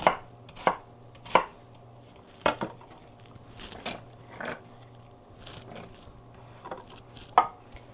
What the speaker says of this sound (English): So we're just going to give this a rough chop.